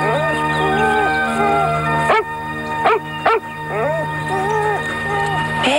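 A dog whimpering and yelping in high, wavering whines broken by a few sharp barks, close and loud over a steady tonal background.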